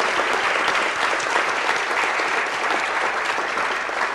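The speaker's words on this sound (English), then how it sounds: "Let's give all of our coaches a round of applause." Audience at a city council meeting applauding coaches, a dense, steady burst of clapping from a roomful of people that lasts throughout, fairly loud and even.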